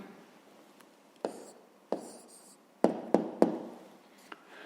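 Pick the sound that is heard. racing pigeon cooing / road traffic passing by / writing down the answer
writing down the answer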